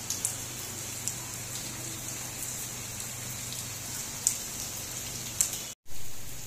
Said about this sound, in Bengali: কিন্তু না ভালোই জোর বৃষ্টি হচ্ছে